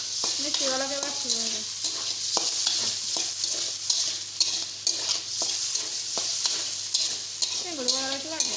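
Prawn heads fry and sizzle in a pan for an Odia-style prawn masala, with a steady hiss and repeated sharp scrapes of a spatula stirring, while a voice speaks briefly at the start and again near the end.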